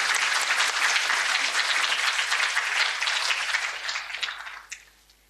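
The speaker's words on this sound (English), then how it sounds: "Clap again, please, for Sri Mulyani." A large audience applauds warmly for the former Indonesian Minister of Finance at a public event, a dense steady wash of clapping that holds for several seconds and then tapers off to quiet.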